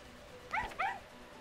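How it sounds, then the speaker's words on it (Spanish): A male dog in the video game Grim Soul gives two short, close whining yips about a quarter second apart, with no talk around them. "Un perro. Un machito."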